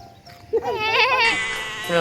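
A single goat bleat, wavering and fairly close, rises over a background of voices and farmyard murmur at a dairy farm with hens and buffaloes, followed by a short further call.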